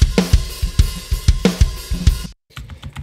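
A Tempesta snare drum cracks in quick, punchy strokes alongside kick drum and cymbals in a short metal beat, close and loud, ending in a sudden cut and a brief quiet tail.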